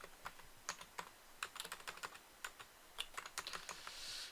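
Someone types on a computer keyboard at a quiet desk during a coding session. The sound is a quick, irregular run of crisp key clicks that stays faint and close, with no voice.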